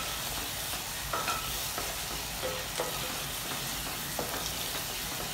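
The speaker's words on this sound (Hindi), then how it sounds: "अब हमने इसको इसमें फ्राई कर रहे हैं।" Vermicelli (sevaiyan) fries in a pan for a savory keema dish, a steady soft sizzle with intermittent scraping stirs, close and fairly quiet with no talking.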